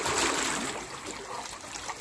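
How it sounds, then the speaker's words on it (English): Continuous bubbling and gurgling as air is blown out underwater in a swimming pool, a dense, close, steady watery churn that fades slightly toward the end, with no voices. "blow bubbles in the water while you're doing it"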